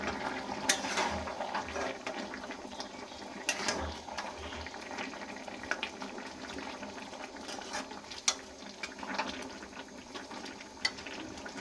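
Pumpkin greens stalk curry with green chillies and mustard oil bubbling in a pan, a steady close simmering hiss with scattered pops and clicks throughout.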